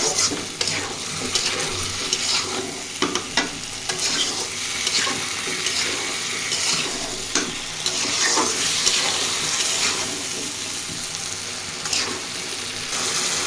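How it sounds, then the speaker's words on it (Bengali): Taro pieces sauté in a spice mixture in a pan with continuous sizzling and frying, broken by repeated scraping stirs of a utensil close up. Nobody talks. "এবার এখন আমি কচুটা কষিয়ে দিব। ভালোভাবে কচুটাকে একটু কষানো।"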